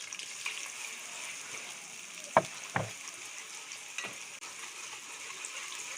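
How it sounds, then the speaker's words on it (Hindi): Onions frying in hot ghee on a clay stove, a faint, steady sizzle with a couple of sharp clinks or stirring knocks near the middle. "सबसे पहले हम इसमें ऐड कर देते हैं प्याज। बिस्मिल्लाह, प्याज को अच्छी तरह से ब्राउन करेंगे।"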